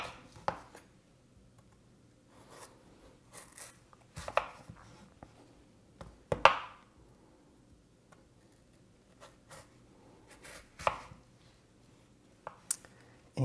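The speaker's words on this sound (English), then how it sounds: "you want to cut these into strips about 1/3 of an inch thick" Knife slicing potatoes into thin strips for french fries on a cutting board, a few sharp, separate cuts with quiet pauses between them and no talking.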